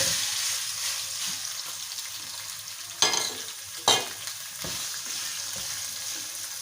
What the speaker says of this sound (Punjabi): ਇਹ ਬੋਨਲੈਸ ਕੀਮਾ ਹੈ ਸਾਡੇ ਕੋਲ ਜਿਹਨੂੰ ਅਸੀਂ ਫਰਾਈ ਕਰਨਾ ਹੈ।